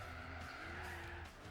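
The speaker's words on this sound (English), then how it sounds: "Braking." A car braking hard in Gran Turismo 4, with a steady, loud tire squeal and skid over continuous engine drone, alone for about a second and a half.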